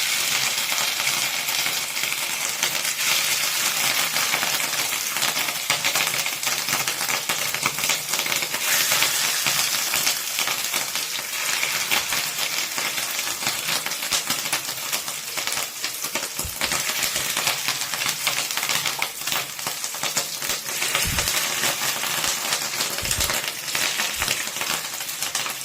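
Fish roe frying in a pan, producing a steady, loud crackling sizzle with fine spattering that runs unbroken throughout, with no voices.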